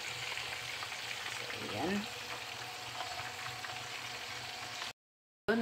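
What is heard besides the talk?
fish and vegetables frying in a pan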